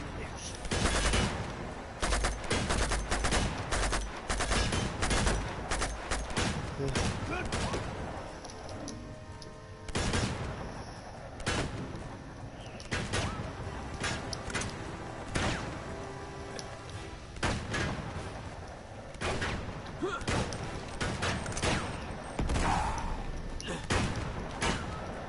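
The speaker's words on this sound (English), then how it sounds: "Oh, those goddamn shotguns." Repeated shotgun blasts and gunfire in the Uncharted 2 video game, loud sharp bursts coming in rapid clusters and scattered single shots, with a voice talking over parts of the fighting.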